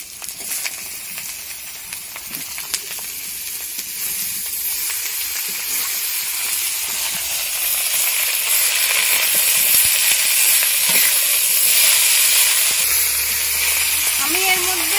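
Pumpkin greens tipped into a pan of frying potatoes with slit green chillies hiss and sizzle steadily, the steamy frying noise swelling slightly and staying loud and close throughout.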